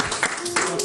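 A guest on a talk-show set applauds himself with a brief patter of clapping, mixed with a voice speaking over it.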